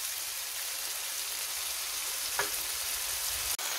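Tomato sizzling in a pan with zucchini cubes, grated garlic and lemon juice for Tunisian fish couscous, a steady close hiss of frying with a brief stir sound near the end.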